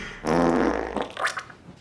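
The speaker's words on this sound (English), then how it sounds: "Oh, I'm gonna fart." A loud, drawn-out fart from a married man at home, starting abruptly and sputtering for over a second before trailing off into quieter rasps.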